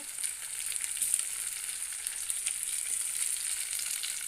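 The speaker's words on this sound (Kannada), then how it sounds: "ಈ ಬದನೆಕಾಯಿ ಸ್ವಲ್ಪ ಎಣ್ಣೆ ಒಳಗೆ ಬೇಯಬೇಕು" Eggplant fries in oil with a steady, bright crackling sizzle, moderately quiet and unbroken for a few seconds.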